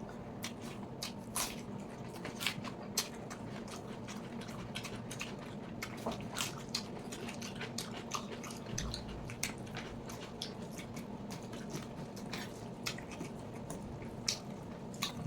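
Someone eating rice and spicy chicken curry with onion by hand, close wet squishing, smacking and chewing sounds in a steady stream with frequent soft clicks, no talk.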